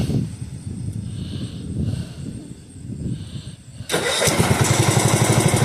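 A Bolens 1253 garden tractor engine cranks and catches after a few seconds of quiet outdoor background noise, then settles into a loud, close, steady rapid idle.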